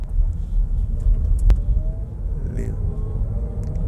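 Chevrolet Bolt EV electric car accelerating in sport mode, a steady low road rumble and motor hum from inside the cabin with no breaks, a brief sharp click near the middle.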